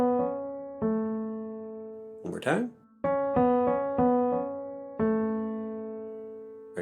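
A short ear-training melody starting on mi and moving mi, re, mi, do in a trill-like back-and-forth between two notes. Clear sustained pitched tones play, a brief voice cuts in midway, then the phrase repeats.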